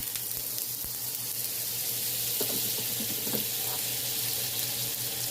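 Butter sizzles and crackles on a hot grill before steaks go on, a steady close frying hiss with a low hum beneath it.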